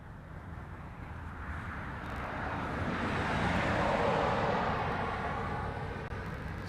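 A heavy jet airliner passes low overhead on approach to Honolulu airport at night, a broad roar that swells to a peak midway and then eases off slightly, heard alone without talk.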